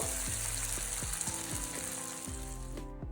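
Tomato pieces sizzling in oil in a pan for a potato and drumstick curry, a continuous close crackle broken by regular scraping stirs, fading briefly at the very end.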